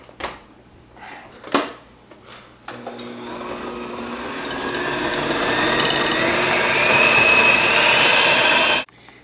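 Electric mixer beating confectioners' sugar and cream cheese for a blueberry pie filling, starting with a few knocks, then a steady rising whir that builds to a loud, even drone before cutting off abruptly.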